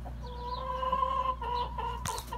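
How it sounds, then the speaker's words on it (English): Chickens clucking nearby in short, overlapping calls over a steady low hum, with a brief burst of noise near the end. "Happy chickens, got fresher water now."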